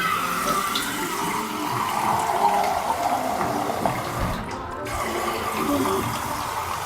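Hot and cold water pours into two bottles for a heat-flow experiment, a steady splashing, gurgling rush of water that runs throughout at moderate loudness, with brief vocal sounds now and then.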